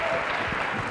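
Live audience applauds for the contestants of a queer blind date parody show at a student pride event, a dense steady wash of clapping filling the whole moment.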